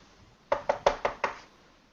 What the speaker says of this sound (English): I knock louder.